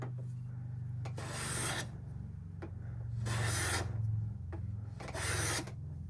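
A 130-year-old Stanley No. 9 1/2 block plane shaving thin wispy curls from wood, three loud, close, sustained hissing strokes separated by short pauses, with a low background hum and no talking.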